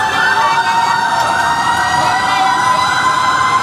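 A loud fire truck siren wails steadily at a building fire in Divisoria, Tondo, Manila, close and continuous, its tone holding high and unbroken throughout.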